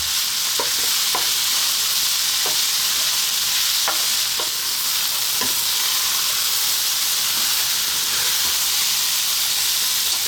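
Pork belly fried rice being stir-fried in a hot pan, a steady loud sizzle and hiss with scattered scraping clicks of the spatula moving the rice, no voices.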